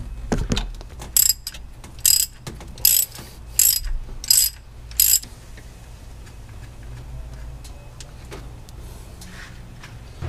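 Ratchet with a 7/16 Allen key spinning out an old coolant spigot on a RAM 1500: several quick, crisp clicking bursts up close, then faint handling noises.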